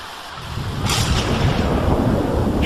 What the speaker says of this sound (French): Putain, les éclairs, c'est chaud, hein.